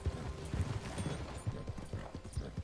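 A horse's hooves clip-clop in a steady walking rhythm inside a video game, close and moderately soft, with no talking.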